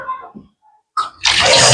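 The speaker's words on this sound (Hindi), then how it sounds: "और अब बारी है भाई सबसे कठिन काम की, यानी कि बर्तन धोने की।" Cold tap water runs for washing dishes in winter: a few faint clinks, a brief pause, then a loud, steady gush of running water bursting in close by and continuing to the end.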